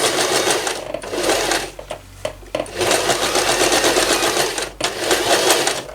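A sewing machine stitching cotton fabric for a reusable Christmas cracker, running in loud rapid bursts forwards and backwards with brief stops between runs, close up with no talking.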